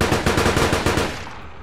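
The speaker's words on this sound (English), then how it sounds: "I hear gunshots." A rapid burst of video-game gunfire, about eight loud close shots in quick succession, then fading into reverberating echo with no talk.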